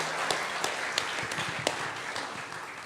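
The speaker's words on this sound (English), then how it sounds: "So a round of applause for that, ladies and gentlemen" A live studio audience applauds at a Hall of Fame interview with Mike Tyson, a dense, steady wash of clapping with a few sharper individual claps standing out, holding at a fairly even level throughout.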